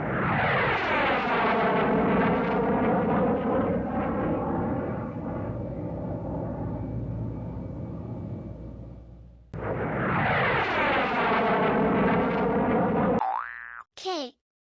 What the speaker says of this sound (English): J for jet.